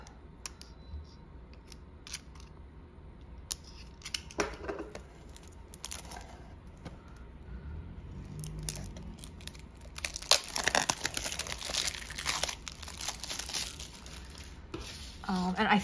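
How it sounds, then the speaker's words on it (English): A package of Field Notes notebooks is opened with sporadic crinkling and tearing of wrapping, a few sharp clicks early, then a louder stretch of rustling paper and plastic handling close by. "I'm going to unbox everything first"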